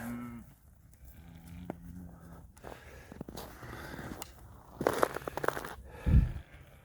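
Faint, low moos from Angus cattle sound a couple of times, among soft rustling, snuffling and a few dull thuds.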